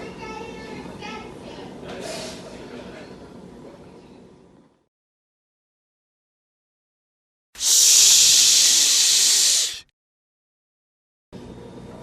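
A brief voice, then silence, followed by a loud, sharp hiss lasting about two seconds as miso soup is poured into boiling water, before cutting off.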